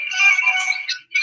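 A phone ringtone plays loud and close as a short, bright electronic melody, with a brief gap before it resumes.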